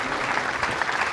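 Arena crowd applauding a darts player at the Weber Cup in Barnsley's Metrodome, dense sustained clapping filling the whole moment, loud and close.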